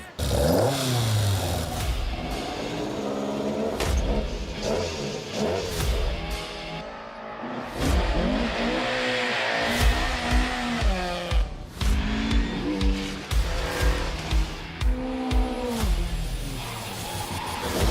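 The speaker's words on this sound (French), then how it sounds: "La raison, le déferlement de voitures de rallye du temps d'avant." Vintage rally cars racing at the Legend Boucles de Bastogne winter classic, engines revving hard and rising and falling through repeated gear changes, loud and close with several bursts of acceleration.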